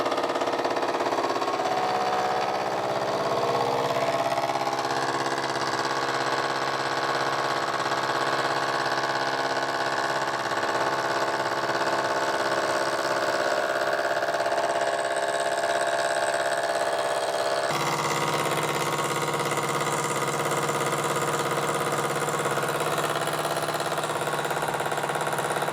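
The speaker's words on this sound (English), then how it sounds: "I'll have to re-drill and tap it." Machine tool drilling and tapping a thread in an SNNC 415 crank case, a steady mechanical whine with shifting tonal hum that changes character partway through, continuous and fairly close, without speech.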